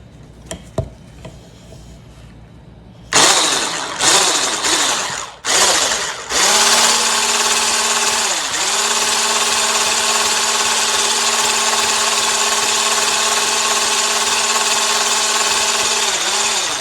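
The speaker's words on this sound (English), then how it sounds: "I'm gonna go ahead and start whipping some air into this body butter" An electric hand mixer whips air into a no-melt body butter: a few short bursts and stops, then a loud, steady whirring motor with slight pitch dips as it churns alone.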